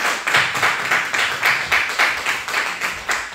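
An audience at a women's church conference claps together in a steady, rhythmic beat of sharp, close hand claps, about four per second, that keeps going with no talking over it.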